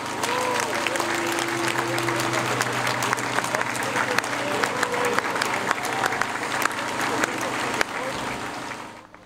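A crowd applauds at a Citybahn rally, sustained dense clapping close by with some voices mixed in, fading out at the very end.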